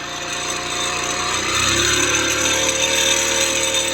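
A small engine with its choke fully open, on a hard-starting machine, runs loud and steady at close range for the whole stretch, with no voices over it.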